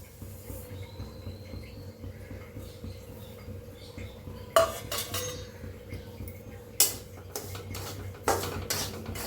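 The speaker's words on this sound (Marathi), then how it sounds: "छान असं भाजून घ्यायचं आहे मध्यम गॅस ठेवून" Coarse semolina (rava) is dry-roasted in a pan over a medium gas flame, with a low steady hum under a few sharp scraping and clinking knocks of a spoon against the metal pan.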